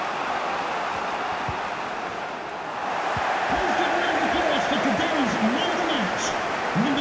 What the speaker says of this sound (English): it must be really great for these Liverpool players to hear this crowd